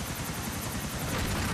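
A helicopter in the video game GTA IV The Lost and Damned gives off a loud, close, continuous rotor thump with rapid rhythmic chopping over a dense engine roar, with no talk.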